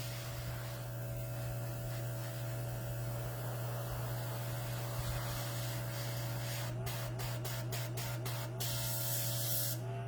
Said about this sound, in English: Just use the air from the airbrush to just dry it all the way.